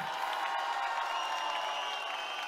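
An audience applauds the band members of a combo at a Vendimia festival concert in Peralillo, with dense, continuous clapping and faint tonal ringing underneath, sustained evenly throughout.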